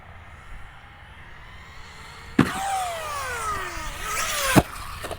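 An Arrma Typhon 6s RC car driving toward a jump ramp outdoors, quiet wind and ambience suddenly broken by a sharp impact and a loud electric motor whine sweeping in pitch, ending with another thump.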